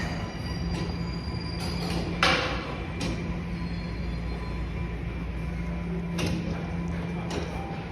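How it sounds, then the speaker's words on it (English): Toronto subway Line 1 train rumbling steadily through a station near Sheppard Avenue West in North York, with metallic wheel squeal, a sharp clank and faint door or brake hiss over the constant roar, fairly close. "Well, there's the Line 1 train."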